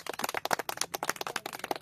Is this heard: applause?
yes